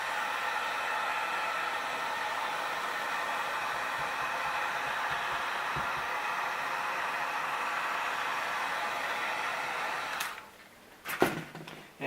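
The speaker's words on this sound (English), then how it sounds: "Blast the seam with your heat gun." Heat gun blasting a Worbla seam: a steady, loud, close hiss of blowing hot air that runs unbroken, then cuts out, followed by a few brief clicks.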